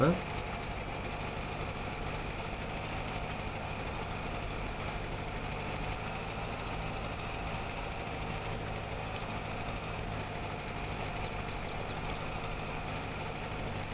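A tractor engine strains in Farming Simulator 22, a steady low drone and hum holding constant throughout at moderate loudness, with no talk over it.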